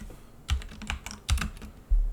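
Keys on a computer keyboard are tapped in short, uneven clusters of soft close clicks, with a few heavier thumps between quiet gaps.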